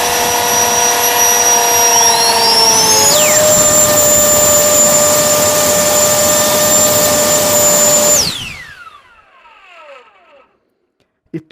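A cheap non-brand electric jet fan switches on with a loud, rising whine that quickly settles into a steady high-pitched roar, holds for several seconds, then cuts off and spins down with a falling whistle into near silence.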